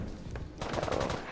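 Bursts of rapid gunfire in a Gun Game shooter match, sparse shots at first and then a dense, sustained volley, loud and without any talking.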